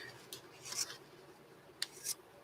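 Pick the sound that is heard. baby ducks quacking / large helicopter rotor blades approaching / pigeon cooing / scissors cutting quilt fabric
scissors cutting quilt fabric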